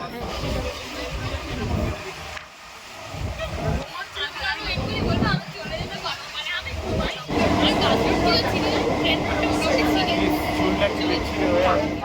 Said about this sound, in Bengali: উঠে পড়েছি আমরা ট্রেনে, জয়মা বলে জার্নিটা স্টার্ট করলাম